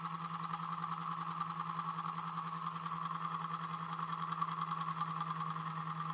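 A homemade magnet generator with coils, magnets set behind the cores, runs during a test in Minsk, Belarus, giving a steady, even mechanical drone with a constant tonal hum throughout and no talking.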